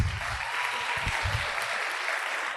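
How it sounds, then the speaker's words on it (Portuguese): A church congregation claps for its volunteers, a full wash of applause with a few low thumps and murmurs underneath in the first second. "vamos dar uma salva de palmas para os heróis"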